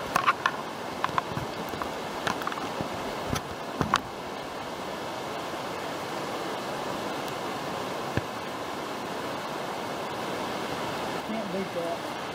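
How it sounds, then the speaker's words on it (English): Rock Creek on the Cumberland Trail flows as a steady, broadband rushing wash that fills the whole stretch, with a few sharp knocks and taps in the first seconds over the constant water noise. "Yeah, that's a beautiful creek."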